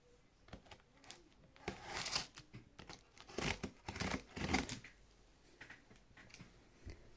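Scissors crunch and tear through the stiff packaging of a Bluetti EB55 power bank in several bursts, with crinkling plastic between cuts, close and fairly quiet.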